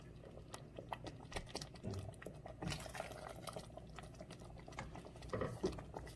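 Chicken broth with walnuts boils in a pot, a steady low bubbling and simmering texture with small pops and stirring clinks, moderately quiet and close.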